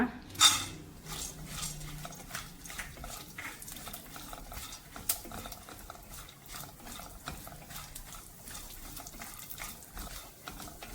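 Pumpkin seeds roasting in a hot pan on a gas stove, faint scattered crackles and light scraping ticks spread across the whole stretch, with an occasional louder clink.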